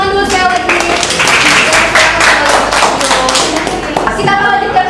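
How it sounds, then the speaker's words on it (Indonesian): A classroom group in a teacher training session claps together, close and loud, with quick regular hand claps running steadily for several seconds before tapering off. "Tepuk tangan dulu sekali lagi."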